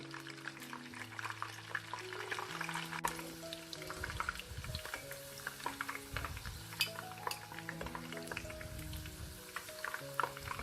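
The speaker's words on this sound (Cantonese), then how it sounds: "炸一炸呢個蒜頭" Garlic cloves deep-frying in oil, a soft continuous sizzle with frequent light clinks and stirring scrapes of utensils against the pan, close and fairly quiet.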